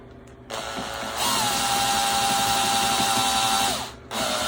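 Power drill boring a hole with a drill bit, a loud close whirring motor that revs up, holds a steady grinding whine for a few seconds as the bit rubs into the material, then eases off.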